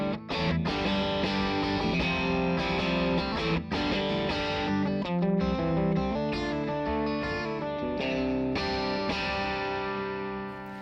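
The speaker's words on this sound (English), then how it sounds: "the classic chime and crunch of VOX's AC30" An electric guitar plays through a VOX MV50 head on its AC setting, with chiming, lightly crunchy distorted chords and single notes ringing continuously for about ten seconds, loud and alone.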